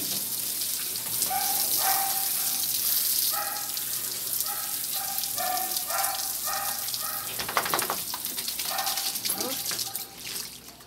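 Water sprays steadily in a continuous hiss while pets are bathed. It runs close by under chattering voices and short tonal calls, then tapers off near the end.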